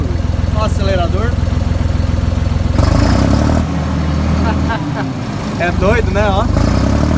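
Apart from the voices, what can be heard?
Massey Ferguson 4409 tractor engine revving with the accelerator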